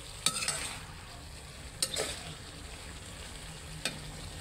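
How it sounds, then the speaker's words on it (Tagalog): Pork adobo with soy sauce being stirred in a pan, a faint steady sizzle under a few clinks of the utensil against the pan, with no talking. "Kaya hinahalalo ko yan mga kasarap para yung itim ng toyo ay kumapit-kapit doon sa mga karne"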